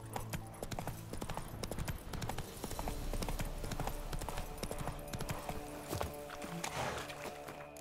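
Hooves of Roach, the horse in The Witcher 3 video game, pound in a rapid, rhythmic galloping clip-clop, loud and close throughout with no talking.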